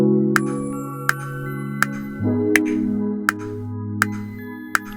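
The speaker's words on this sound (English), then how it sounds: "the final element of my melody was electric mechanical preset on Analog Lab 4" The electric mechanical preset from Analog Lab 4, heard with the other melody parts, holds sustained layered chords that shift once midway, over an evenly spaced ticking click.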